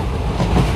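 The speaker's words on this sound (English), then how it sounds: "The noise of the tracks got louder, echoing off the concrete walls outside." Train wheels clatter over rail joints inside a long concrete tunnel on a midnight train, a loud close rumble that swells slightly partway through.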